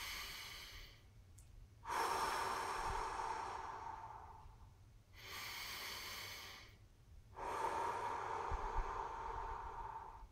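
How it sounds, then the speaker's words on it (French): Slow, deep breaths through the nose during a belly-breathing relaxation exercise: three long, close, airy breaths in sequence separated by short quiet gaps, with no talking over them. "inspirez avec le nez"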